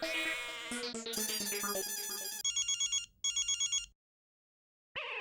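A phone rings loudly with a melodic ringtone, then electronic pulsing rings in two bursts, a pause of silence, and the ring starting again.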